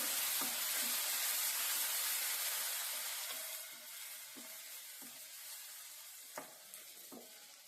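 Green chili paste frying in a little oil, a loud steady sizzle and hiss that slowly softens, with soft scraping stirs from a spoon at irregular intervals and no talk.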